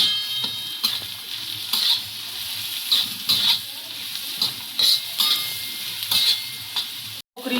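Onion frying with a pinch of salt in a pan for a rustic wild-leaf vegetable dish: rhythmic scraping strokes of a spatula repeat every second or so over a soft, close sizzle, with a brief cut to silence near the end.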